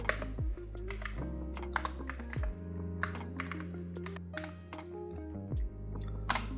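Keys clack in quick, uneven bursts on an Akko MonsGeek FUN60 magnetic keyboard, close and fairly quiet, with a steady low hum underneath.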